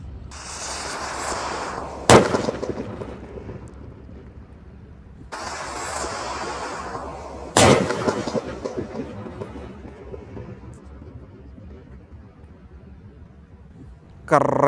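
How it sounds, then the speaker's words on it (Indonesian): Three small paper-wrapped firecrackers going off, sharp loud bangs at intervals followed by lingering crackle and hiss, with a final bang at the end and no clear talk. "Ketiga merconnya menyala bersama ya."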